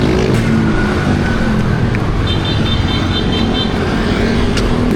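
Busy roadway traffic surrounds a pedestrian trying to cross, with a steady, close roar of vehicles and engines rushing past continuously and no voices.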